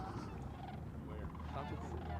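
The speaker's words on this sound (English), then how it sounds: "Justin, what do you think of those birds" Birds gobbling like turkeys at an outdoor rugby sevens tournament, a faint wavering chatter of calls under steady crowd noise and murmured voices.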